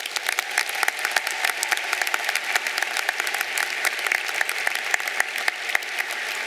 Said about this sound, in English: Please give our faculty a round of applause.